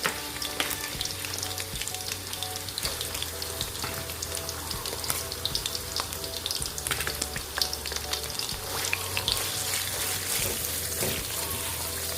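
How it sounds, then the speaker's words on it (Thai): Squid sizzles steadily in oil that went into the pan before heating, a continuous close frying hiss with small pops and crackles, faint background noise beneath. "หมึกเขาทอดไม่นานนะคะ ทอดแป๊บเดียวเดี๋ยวเขาก็สุก"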